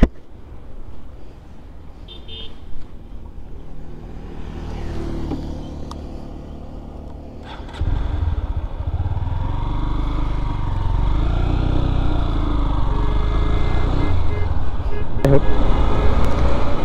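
A Honda Hornet 2.0 motorcycle being ridden. The engine starts as a quieter idle-like hum with road noise, then swells abruptly into a louder, sustained drone that keeps building.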